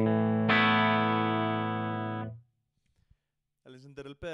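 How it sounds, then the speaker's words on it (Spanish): Clean electric guitar tone from a Fender Stratocaster played through a Hot Rod DeVille amp: one loud, sustained ringing chord that fades out over about two seconds, then silence and a short burst of talking. "Este es el sonido limpio."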